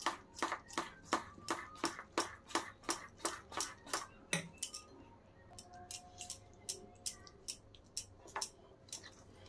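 Gram flour (besan) batter being beaten with water in a bowl for egg pakoda, heard as a fast, regular series of close, sharp whisking taps that pause briefly and then resume.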